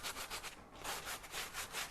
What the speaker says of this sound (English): So what you need is a sanding block or sanding paper